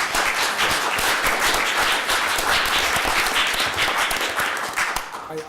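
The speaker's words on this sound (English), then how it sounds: "Please join me in applauding our candidates." Audience applause at a 2014 forum for 12th Congressional district and Mercer County freeholder candidates: dense, sustained clapping from a full room that holds steady for several seconds before beginning to thin at the end.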